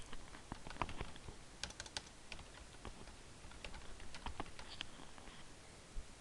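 Rapid, uneven clicking of computer keys being typed, close and quiet against low room hiss, with irregular bursts of keystrokes throughout and no talk.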